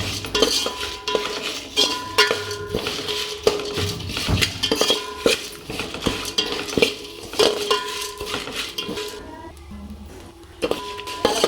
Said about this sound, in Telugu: మిరపకాయలు అయితే మంచిగా వేగినాయి